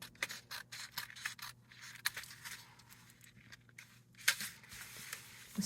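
Scissors trim a piece of paper card in quick, crisp snips and rustles, faint and close, in an uneven run of cuts with brief pauses.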